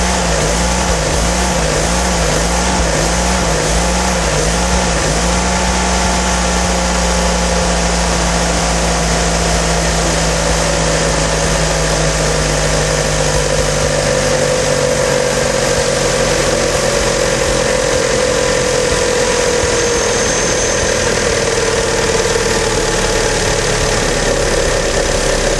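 A GM Vectra 2.0L 8V engine idles steadily and loudly up close, its tone gradually dropping as the rpm is brought down, with a constant low rumble and a faint periodic knock.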